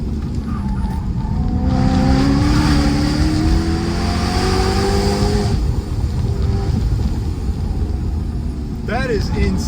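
A loud supercharged BMW M3 engine revs hard, a sustained rising roar that climbs and fades, followed by a short burst of higher-pitched whine near the end.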